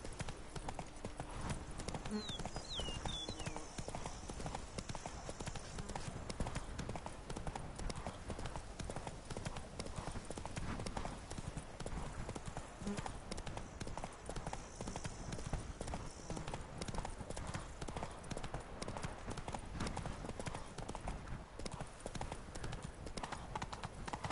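Horse hooves clip-clop steadily while riding through countryside in The Witcher 3, a continuous rhythmic trotting close by under ambient game sound, with no talk.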